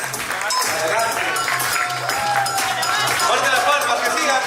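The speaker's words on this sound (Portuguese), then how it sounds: "Fuerte las palmas, que sigan los aplausos." Applause and cheering from a crowd at an awards ceremony, steady massed clapping with crowd noise and voices over it, under music.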